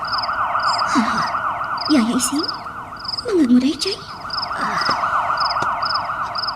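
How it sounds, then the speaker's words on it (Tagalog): A police car siren wails in a steady rising and falling cycle, close and loud throughout, with a sharper pulsing tone layered above, while a few people speak briefly over it. "sirina ti mobil dagiti pulis"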